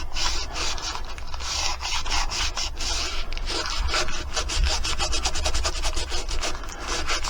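Wax rubbed by hand along the edge of a wooden coat rack with cubbies, a close, steady series of scratchy back-and-forth rubbing strokes repeating in quick rhythm with no talking.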